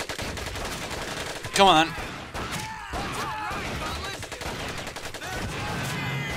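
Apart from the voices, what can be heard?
gunfire during banzai charge in video game Medal of Honor: Pacific Assault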